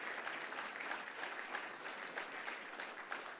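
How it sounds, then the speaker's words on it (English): Steady audience applause for donors at an institute event, a dense even wash of clapping from a room of people, continuous and moderately loud throughout with no voices on top. "Please, a round of applause for all our donors"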